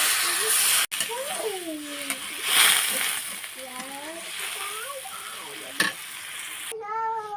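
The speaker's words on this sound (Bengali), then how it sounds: "এখন আমি এটা সেদ্ধ হওয়ার জন্য পানি দিয়ে দেব।" Water poured into a frying masoor dal mixture in a pan, giving a loud sizzle and splashing hiss with stirring, while someone talks over the cooking.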